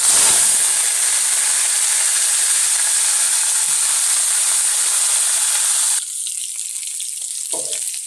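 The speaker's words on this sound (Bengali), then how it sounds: "তেলের মধ্যে আমি ফোড়ন দিয়ে দিচ্ছি একটু।" Spices dropped into hot oil for tempering, before drumstick stalks go in, sizzle loudly and steadily with a bright hiss for about six seconds, then the frying quiets and thins out.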